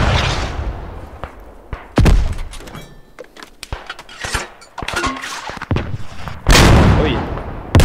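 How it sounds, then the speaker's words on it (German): Feldkanone 96 field gun firing in the World War I game Beyond The Wire, loud booming shots at intervals amid scattered gunfire and battle thuds, with faint talk. "Ah, die Kanone. Ja, die Kanone,"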